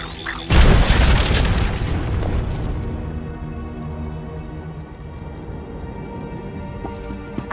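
Explosions of landing pads in the SWTOR game: a loud, sudden boom breaks out after a brief lull, then rumbles and slowly fades into a long, low decay with scattered small pops.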